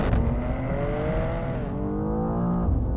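A new BMW M2 engine revs up sharply, its pitch climbing and then dropping away, loud and close, with no speech.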